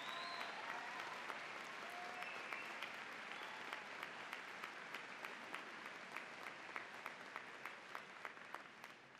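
Sustained audience applause fills a college commencement ceremony, a dense wash of many hands clapping steadily at moderate distance, with a few sharper individual claps standing out as it gradually thins toward the end.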